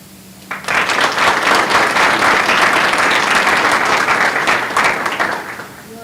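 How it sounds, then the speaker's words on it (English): Audience applause for the keynote speaker at a morning NTHS honor society ceremony, a sustained steady wash of many hands clapping for about five seconds before tapering off, loud and close with no talking over it. "please give one more round of applause for our keynote speaker, Ms. Q."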